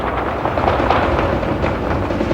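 A dense, continuous roar of overlapping booms and cracks, loud and sustained without pause, like rapid gunfire salutes from Fatah battalions heard from nearby.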